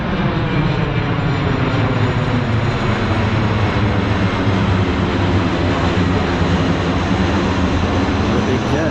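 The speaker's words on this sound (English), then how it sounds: "What a big jet." A large jet airplane passes overhead near a riverbed, a loud, steady, broadband engine roar that fills the whole stretch without letup.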